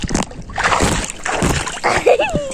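Pond water splashed over an iPhone 14 Pro sealed for waterproofing gives a few quick, close sloshing splashes, with a brief voice and a squeaky sound near the end.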